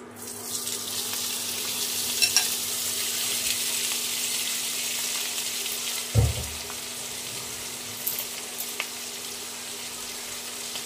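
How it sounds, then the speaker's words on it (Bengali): Prawns fry in hot oil in a wok (kadai), a steady, even sizzling hiss that runs throughout with a faint low hum underneath and a brief soft knock partway through. "ওই একই তেলে চিংড়ি মাছগুলো ভেজে নেব।"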